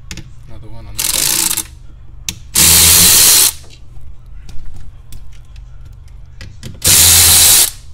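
Power drill running in three loud whirring bursts of about a second each, near and close-miked, with quieter clatter between them, as bolts are removed from a Ford Escape hybrid battery pack after its cover is taken off.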